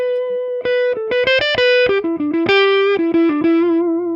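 An electric guitar played on the neck pickup through a mini amp head, bass rolled off, gives a warm, milky lead line of distinct picked notes and slides, loud and close with no talking.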